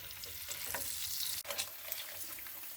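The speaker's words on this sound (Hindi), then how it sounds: "अंडे डाल देंगे। इसको 2 मिनट भूनेंगे।" Eggs frying in a pan for a dhaba-style egg and spinach dish, a steady bright sizzle with soft stirring scrapes and a brief dip midway, close and moderately quiet, no voices.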